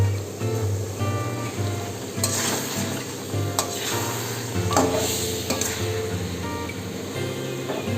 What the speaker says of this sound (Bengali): এবার মাংসগুলো দিয়ে দেবো, দিয়ে ভালো করে নেড়ে নেব।